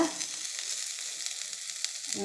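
Ridge gourd frying in a pan, a steady close hiss of sizzling oil running the whole short stretch with no voices over it.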